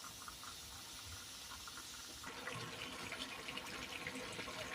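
Pork menudo sautéing in a pan, a steady close sizzle and hiss that grows slightly louder and busier partway through, with no talking.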